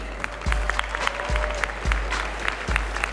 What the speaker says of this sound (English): let's give another round of applause for all of our judges here this evening